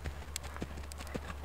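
Hooves of a ridden show-jumping horse clip-clop in a steady rhythm, moderately close, over a low constant hum, with a voice speaking faintly around them.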